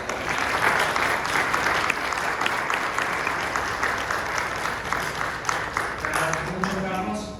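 Steady, sustained applause from an audience welcoming a speaker at a 2025 data-protection event, a dense even wash of clapping that begins to thin near the end as a voice starts.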